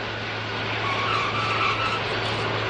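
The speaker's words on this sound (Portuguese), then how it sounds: "São 32 que queimam borracha cada vez que esse colosso de 600 toneladas toca" Tires of the 600-tonne Antonov An-225 with 32 main wheels burning rubber as the giant jet touches down, a loud, sustained broadband screech and roar lasting a few seconds with no talk.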